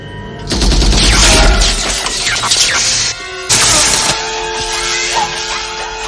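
Gunfire in a RoboCop movie scene, loud bursts of shots and crashing impacts with metallic ringing, cut sharply midway, with voices present under the action.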